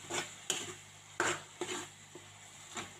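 Whole spices, including bay leaf and black cardamom, are stirred in a cooking pot for a Hyderabadi chicken dish, giving several scraping spoon strokes against the metal over a faint sizzle.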